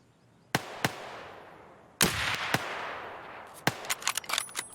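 Gunfire rings out in the woods in Escape from Tarkov: a few sharp single shots with echoing tails, then a quick irregular burst of about five rounds. The shots are moderately loud, with no talking.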